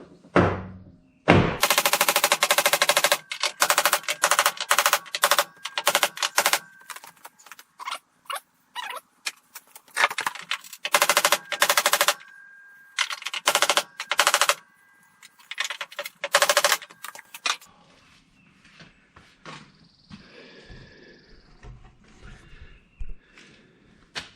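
Rapid bursts of loud metal hammering on the body of a rolled-over GenX-J vehicle, close and harsh, in long runs with short pauses, then scattered single blows and quieter working noises.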